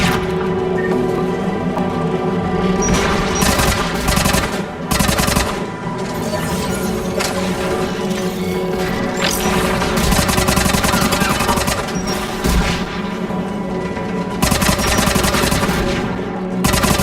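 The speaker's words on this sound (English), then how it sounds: "There, anti-aircraft guns." Anti-aircraft guns firing in a video game, a dense, continuous loud barrage of rapid shots with sustained roaring background, the firing never pausing across the whole stretch.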